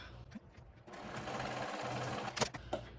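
Sewing machine stitching the side seam of a backpack panel with a taped-down pocket, a close, loud rapid mechanical whir after a few soft handling sounds, stopping near the end with clicks.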